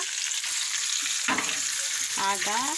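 Meat marinated in yogurt, mustard oil, Kashmiri chili and turmeric fries in a pan with a steady close sizzle, broken by brief stirring scrapes; a voice briefly speaks near the end.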